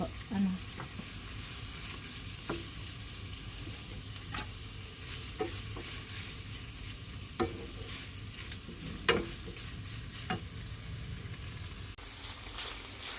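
Chicken sizzles with garlic in a pan on an electric stove, making a continuous soft frying hiss broken by occasional light scrapes and clicks from stirring, with no talk.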